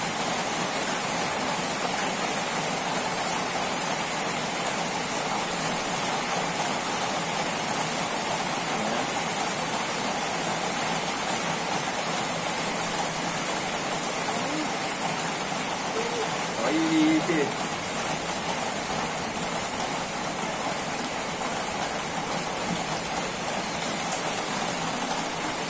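Steady rain falls throughout, a dense broadband patter with no breaks, and faint voices sit underneath.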